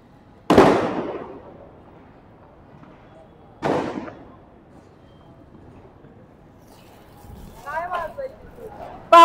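Diwali firecrackers burst with two sharp, loud bangs about three seconds apart, each trailing off quickly, followed by quieter background noise and brief voices near the end.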